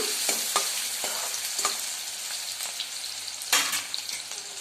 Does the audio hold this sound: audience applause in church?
no